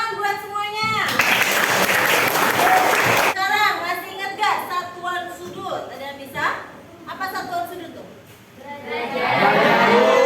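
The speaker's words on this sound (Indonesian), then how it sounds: "Tapi tepuk tangan buat semuanya." Classroom applause for students bursts out as a short, dense round of clapping from a group, sitting between stretches of a teacher talking and children's voices chattering.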